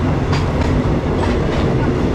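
A third-class train on the Death Railway from Thonburi to Nam Tok, Kanchanaburi, rumbles steadily along the rails, loud and close, with faint rhythmic clatter from the wheels.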